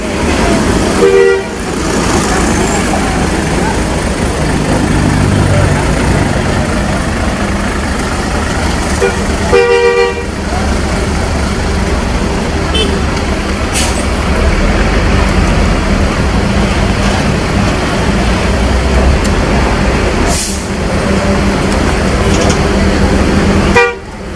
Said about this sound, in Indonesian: ini bus Mutia sudah datang satu unit lagi bus MPM